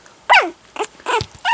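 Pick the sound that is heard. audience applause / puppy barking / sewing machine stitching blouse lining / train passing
puppy barking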